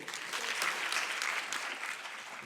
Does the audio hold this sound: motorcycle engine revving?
no